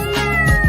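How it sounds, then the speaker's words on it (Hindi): A cat gives a single loud, close meow with a drawn-out, wavering tone, set within a children's Hindi nursery rhyme. "बिल्ली करती म्याऊ म्याऊ"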